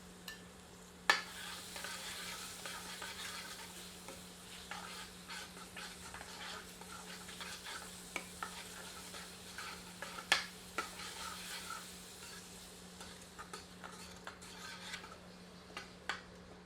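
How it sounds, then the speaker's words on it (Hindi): Ginger, garlic and red chili paste frying in a pan for a desi chicken gravy, a soft low sizzle with scattered stirring scrapes and light utensil clinks, fairly faint throughout. "तत्पश्चात इसमें अदरक, लहसुन और लाल मिर्च का पेस्ट सम्मिलित कर पुनः 2 मिनट भून लेते हैं।"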